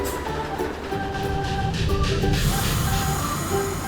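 A toy train sound effect rumbles and hums steadily with a rail-like throb, at moderate loudness and with no talking.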